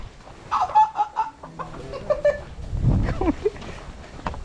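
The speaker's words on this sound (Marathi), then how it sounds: "बघा कोंबडी" Chickens cluck in short, scattered bursts nearby while people talk and move about.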